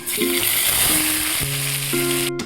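Loud, steady sizzling of onion paste frying in oil with sugar, with tonal background hums layered over the crackle throughout.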